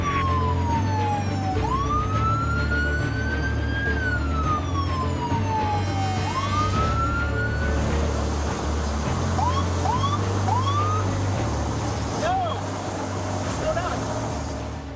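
A police boat siren wails and yelps during a chase, rising and falling repeatedly, loud and close over a low engine rumble.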